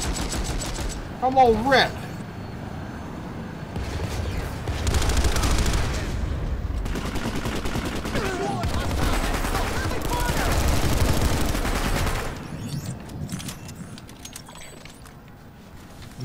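Gunfire in PlanetSide 2 during a Prowler tank push against Vanu forces, with bursts of rapid automatic shots and heavier fusillades in several waves, loud and close, while someone talks over the combat.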